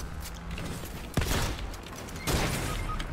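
Gunfire in the online shooter Valorant comes as a few sharp, loud shots and bursts with metallic clatter, plus a second strong burst near the end, over steady game background noise.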